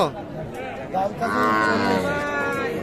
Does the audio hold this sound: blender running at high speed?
no